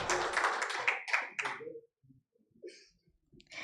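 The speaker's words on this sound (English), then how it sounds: "A round of applause, ladies and gentlemen." An audience applauds a speaker at a report launch on frontline health facilities in Nigeria, a dense burst of clapping that fades out after about two seconds, followed by a few scattered light taps.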